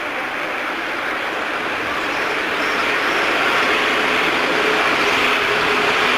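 NASCAR stock cars at the 2000 Pocono 500 roar through a turn in a dense, sustained wash of engine noise that swells slightly as the pack passes, loud and continuous.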